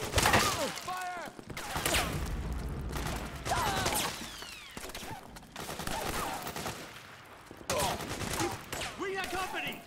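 Sustained gunfire and automatic bursts in the video game Metal Gear Solid 4 on PS3, loud and dense, mixed with shouted soldier voices and battle effects throughout.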